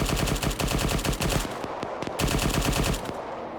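Loud gunfire from a video game comes in two long, rapid automatic bursts separated by a short gap with a few single shots.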